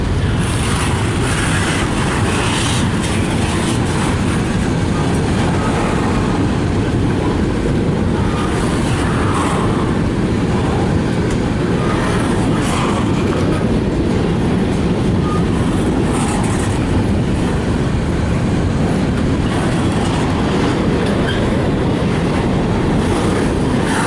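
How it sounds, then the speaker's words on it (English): A long CSX westbound freight train passing in Fostoria, Ohio, giving a steady, loud rumble of rolling wagons with wind buffeting the microphone throughout, close by and without voices. "That westbound is a long train."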